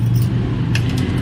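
Keys jangle briefly over a steady low rumble, likely a car engine idling nearby.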